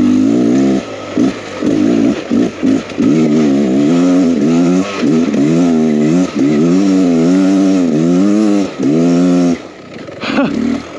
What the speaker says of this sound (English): This is just rolling on the throttle.